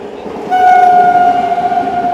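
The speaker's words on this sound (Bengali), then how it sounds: "চলে এলো হাওড়া রাজধানী এক্সপ্রেস।" Howrah Rajdhani Express train sounding a loud, steady horn blast that begins half a second in and holds close over the rumble of rolling wagons, with no talk.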